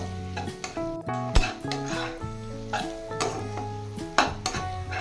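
Chopped capsicum fries with spice masala in a pan. A sizzle is broken by repeated scrapes and knocks of a spatula against the pan, all under a melodic backing tune.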